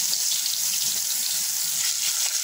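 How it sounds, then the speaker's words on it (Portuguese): Pieces of jiló fry in very hot fat, giving a steady, dense crackling sizzle that holds evenly throughout without pause, close and moderately loud. "Olha, e vai fritando."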